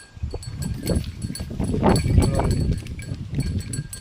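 Hooves of a first-calf milk cow clopping unhurriedly on the ground, near and moderately loud, with farm background noise and a brief voice.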